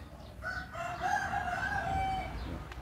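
A rooster crows once, a long drawn-out call lasting a couple of seconds, fairly close and clear over a low background rumble.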